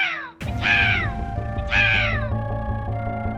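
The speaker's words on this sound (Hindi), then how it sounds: "शायद इस तोते को हेल्प की जरूरत है। ये बचाओ बचाओ चिल्ला रहा है।" A parrot in a cage screeching two loud, harsh, descending calls, each followed by lingering tonal squawks, heard close and alone without talk.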